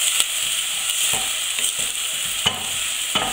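Finely chopped onion sautés in olive oil with a constant close sizzle, while a spoon scrapes and taps the pan in an uneven rhythm, roughly every half second.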